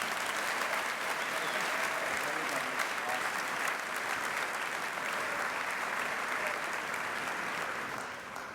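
Steady applause from a large audience at a high school graduation ceremony, welcoming the class of 2016 speaker, sustained and even before fading slightly at the end.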